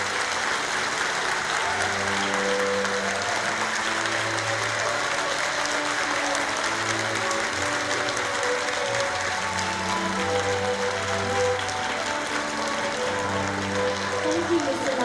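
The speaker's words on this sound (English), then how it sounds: "another round of applause" Audience applause after a guest talk at an alumni award ceremony, a steady dense wash of clapping filling the whole stretch, with faint voices murmuring beneath.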